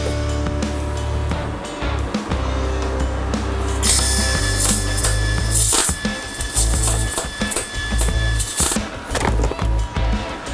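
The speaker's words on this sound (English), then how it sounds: "I'm trying to weld this as solid as I can, and I'm going to continue on this side over here" MIG welding on a classic Ford Mustang in a garage: a harsh, steady crackling buzz with sputtering pops, rising louder partway through and continuing in uneven bursts, with no speech.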